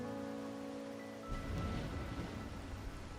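Rain and thunder in the video game Wuthering Waves: a steady hiss of rainfall with a low rumble of thunder rolling in partway through, under a soft sustained musical tone, with no talk.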